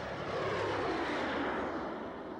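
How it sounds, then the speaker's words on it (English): A Bell XV-15 tilt-rotor aircraft flying past at an outdoor demonstration, a steady loud engine and rotor roar that holds even for a couple of seconds, heard alone without voices. "That's what makes the XV-15 special. Its ability to perform like a helicopter and then fly like an airplane."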